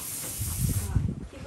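A spray can hisses in a short, uneven burst with a broad rough rush and lower sputtering, close and fairly loud, then cuts off near the end.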